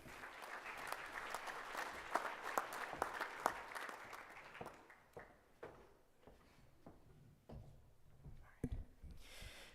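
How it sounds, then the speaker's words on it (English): An audience applauds at a 4-H livestock judging awards event, clapping that starts dense and gradually thins into scattered individual claps as it dies away. "Let's give him a round of applause."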